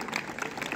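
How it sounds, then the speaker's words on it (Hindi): Brief burst of crowd clapping after a road-safety talk at a college, dense and even throughout, moderately quiet with no voice over it. "तालियां हो जाए।"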